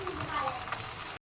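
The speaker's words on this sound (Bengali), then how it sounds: "ভালো করে আমি কষিয়ে নেব যতক্ষণ না জল থাকছে" Spice paste with onion, cumin powder, salt and Kashmiri chilli powder frying in oil in a pan, giving a steady, close, even sizzle with faint crackles, alone for about a second before cutting off.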